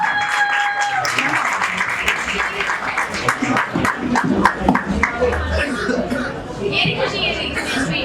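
Loud clapping as a senior teacher takes the stage at a school academy function, with distinct individual claps over the dense applause and occasional coughs and chatter from the audience.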